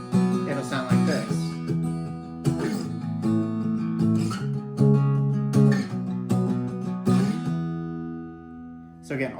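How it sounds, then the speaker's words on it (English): Acoustic guitar strummed with palm-muting for a song, strings lightly damped at the bridge: a rhythmic run of thumpy, clipped strokes with ringing low chords, close and fairly loud, while a voice talks along at points. "all you're doing is lightly touching the strings over here on top of the bridge to get that muted sound"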